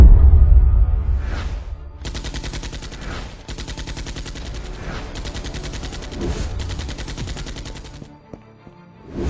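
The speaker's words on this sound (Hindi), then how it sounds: "फातिमा, फायर! फातिमा उस आदमी के पैर को टारगेट करती है" Animated gunfire at a ship in a detective cartoon: loud, rapid machine-gun bursts in several long volleys separated by short gaps, close and dominant, with whooshes between.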